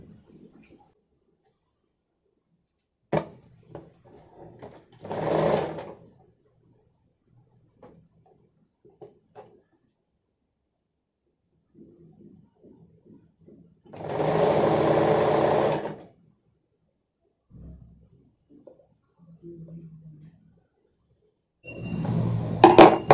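An electric sewing machine stitches a katori-cut blouse in short separate bursts: a brief one near the start, a long steady run in the middle and another at the end, with quiet clicks and handling between runs.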